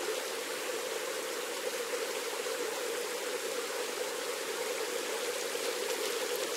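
A mountain creek in North Georgia rushes steadily over rocks, a constant close wash of flowing water with no pauses or voices.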